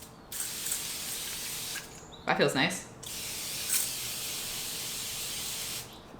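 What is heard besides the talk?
face mist sprayed onto a card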